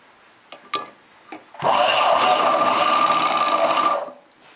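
A sewing machine stitches chudidar pant fabric, a few light clicks and then one loud, steady whirring run of about two and a half seconds, close up.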